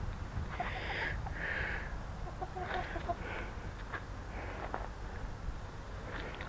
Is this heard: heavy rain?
no